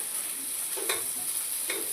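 Spices, chilli powder and salt stirred in a frying curry pan: a steady sizzle throughout with two brief scraping strokes of the spoon, close and alone.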